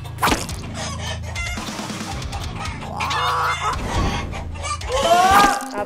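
Chickens cluck and squawk at a pet shop, with busy overlapping fowl calls and a louder squawk near the end, close by with no talk.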